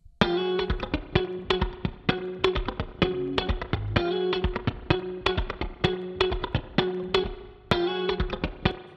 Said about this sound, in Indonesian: banyak yang bilang spring reverb ini karakternya metalik